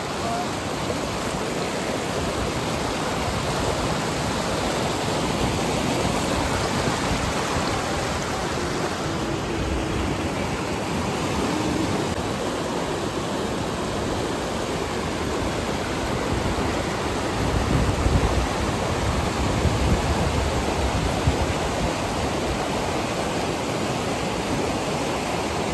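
A stream in Uttarakhand rushes with a dense, steady roar of flowing water that stays loud and close throughout. There is no talking.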